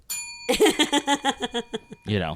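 A single bright bell ding rings out and keeps sounding, then a voice chimes in with a rhythmic ding-a-ling imitation of ringing bells, close and loud.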